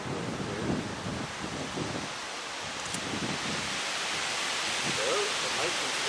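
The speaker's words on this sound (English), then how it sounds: "I wait for the wind to die down a little bit" Wind gusts steadily outdoors during handheld macro photography, a broad constant rush buffeting the microphone, loud and unbroken throughout.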